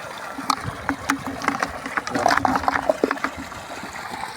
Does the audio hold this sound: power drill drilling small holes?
no